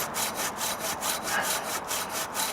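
A hand saw cuts into a resin-rich fatwood log with quick, regular back-and-forth rasping strokes, close and loud, about five strokes in a steady rhythm with no talking.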